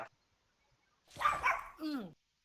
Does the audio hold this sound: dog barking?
yes